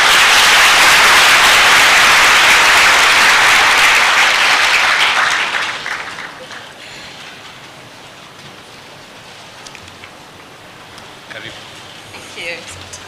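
Loud, dense audience applause fills a hall at a pharmaceutical society conference in Kenya, sustained for about five seconds before fading into quieter scattered clapping and murmuring crowd noise.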